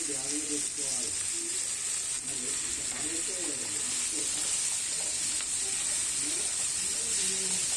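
Cucumber pieces sizzle steadily in hot oil with turmeric, a continuous bright frying hiss with occasional stirring, while a voice talks over it.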